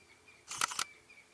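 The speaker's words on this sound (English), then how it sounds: "I'm just trying out a new camera to see if it'll work for various purposes that we have, but it does have a very loud shutter noise" A new camera's loud shutter fires during a South African safari, several fast mechanical clicks in a short burst, close and sharp, over a quiet outdoor background.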